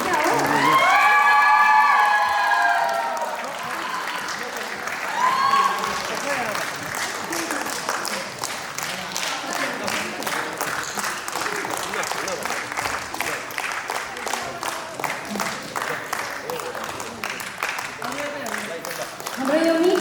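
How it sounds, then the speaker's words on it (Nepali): Audience at a group dance competition in Tokyo claps in rapid, dense applause with cheers and whoops, joined by an amplified voice over the hall at the start and rising again at the end. "तालीको क्रम भएको क्या हो?"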